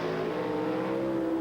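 Drag racing cars at the 1984 IHRA Northern Nationals semifinal launch hard off the starting line, a loud sustained engine roar with steady high revving throughout.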